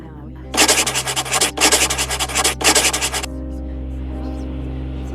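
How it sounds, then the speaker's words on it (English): Paper being rubbed over a carved stone tablet cartouche in three vigorous, rhythmic scrubbing bursts, close and loud over a steady low hum, then a quiet tail. "We'd better take a rubbing."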